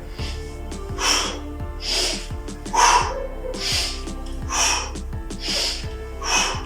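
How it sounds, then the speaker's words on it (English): Sharp, forceful exhalations mark each hip drive of a kettlebell swing, about seven breaths in steady rhythm, close and fairly loud over faint background noise. "I'm taking a breath and blowing out on the hip drive"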